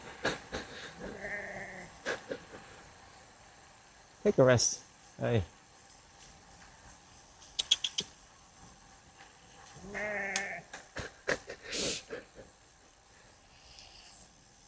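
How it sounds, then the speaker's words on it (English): Sheep bleating beside a road in Donegal, Ireland, heard from a passing bicycle: a few separate bleats, some nearby and loud, others fainter, with someone speaking in between and light wind noise. "Sheep."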